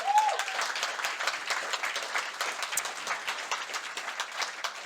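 An audience at the NATO Youth Summit in Stockholm gives a round of applause, a moderate, steady patter of many hands clapping with individual claps audible, continuing evenly to the end.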